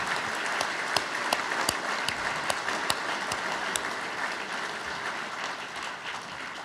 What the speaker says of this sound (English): please join me in a round of applause for the Stout family.